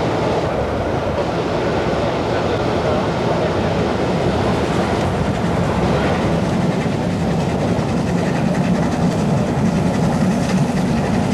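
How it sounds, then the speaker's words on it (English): A steam locomotive, the LNER 'Mallard', rumbles steadily and loudly nearby on the Settle and Carlisle line, with a continuous chugging, slightly uneven exhaust beat throughout and no break in the noise. "So you get not a completely even exhaust beat, which makes it a very interesting sound,"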